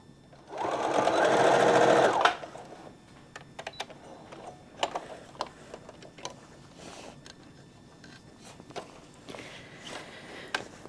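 A sewing machine stitches the hem of a ribbon skirt in one steady, fairly loud run of about a second and a half, followed by scattered light clicks and soft footsteps.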